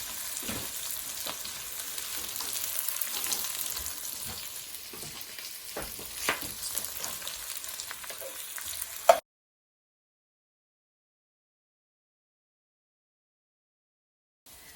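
Onions cut into long strips fry in a pan with a steady, loud sizzle and crackle for about nine seconds, then the sound cuts off to near silence.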